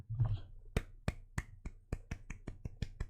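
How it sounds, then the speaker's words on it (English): Golf claps: a slow series of about twelve soft, evenly spaced single hand claps, close and sparse, following a brief murmur at the start. "Just golf claps."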